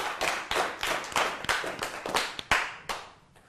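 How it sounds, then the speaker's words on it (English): Audience clapping at a magic show, a scattered, loose round of claps from a modest crowd with distinct individual hand strikes, fairly close, tapering off toward the end. "You guys clap for that."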